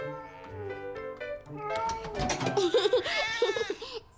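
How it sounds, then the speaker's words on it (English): A cartoon cat from an animated kids' show meows amid music and other voices, with the meow rising clearly after the first couple of seconds and fairly loud throughout. "Silly cat."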